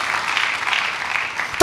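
A church congregation at a worship service claps briefly in a soft, even wash of many hands, with a sharp sound cutting in right at the end.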